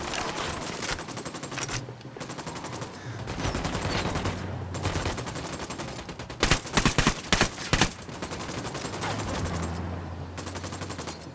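Sustained video game gunfire in Ghost Recon Wildlands, with steady automatic bursts throughout and a louder, sharper volley of close shots in the middle.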